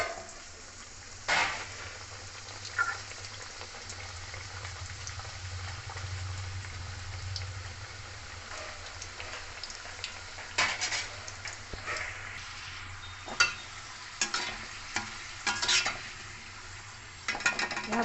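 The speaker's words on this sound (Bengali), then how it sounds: "বাকি আলুগুলো এইভাবে ভেজে নেব।" Sliced potatoes fry in hot oil for homemade chips, a steady, rain-like sizzle under intermittent scraping and clinks of a utensil stirring in the pan.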